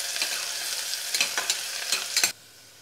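Chopped onion is stir-fried in hot oil, with a continuous close sizzle broken by several scraping strokes of a spoon before the frying noise drops away near the end.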